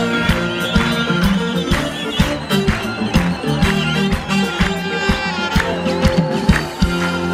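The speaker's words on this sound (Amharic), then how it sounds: "እልልታ ጭብጨባ" A church crowd ululates and applauds at an Ethiopian gospel gathering, dense clapping and high trilling voices layered over steady music throughout.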